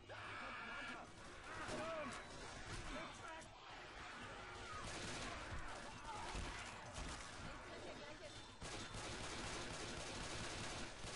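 Left 4 Dead 2 gunfire during a co-op fuel-can hunt, dense faint bursts and crashes running steadily under a man's speech.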